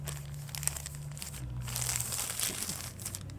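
A plastic shopping bag is folded over, producing soft, close crinkling and rustling that swells in the middle and then fades, over a low steady background hum.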